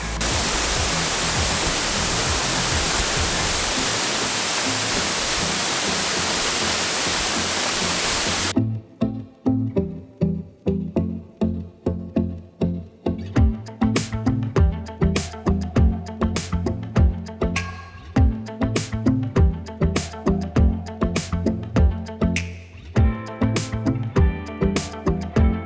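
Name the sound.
Achankallu waterfall in Kasaragod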